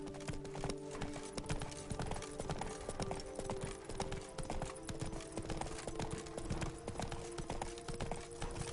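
Steady hoofbeats of Roach, a horse in The Witcher 3 video game, trotting in an even, continuous rhythm, close but fairly quiet, with faint game ambience underneath.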